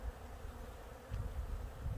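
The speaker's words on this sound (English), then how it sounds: "I see bees going that direction." A low, steady insect buzz of bees drones close by, swelling slightly in places, with no other sounds.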